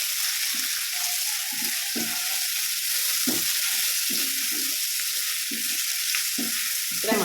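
Curry leaves sizzle in hot oil in a pan for oats upma, a bright, continuous crackling hiss punctuated by soft stirring knocks.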